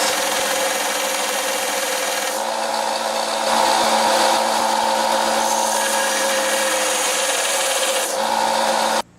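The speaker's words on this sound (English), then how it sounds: "So I'm going to sand flat spots on either side of this." A tailgate hinge part being sanded flat on either side, a continuous loud abrasive rasping close by that shifts in texture partway through and stops abruptly at the end.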